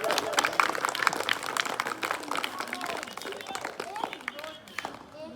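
An audience at an Independence Day gathering claps in a sustained burst of applause, with voices talking over the clapping throughout.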